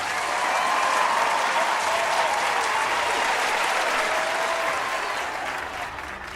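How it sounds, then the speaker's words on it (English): A crowd applauds steadily, a dense wash of clapping that holds for several seconds before tapering off slightly at the end. "that deserves a round of applause"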